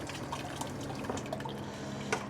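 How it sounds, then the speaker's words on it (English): Birria consommé strained through a chinois, a soft steady trickle of liquid with scattered drips and small splashes, fairly quiet and without talking. "So we strain it out a couple times and get the texture to be nice and velvety"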